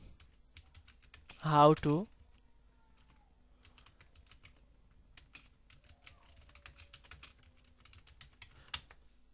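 A computer keyboard clatters in scattered bursts of quiet key taps while someone types a search query, with a brief spoken phrase near the start.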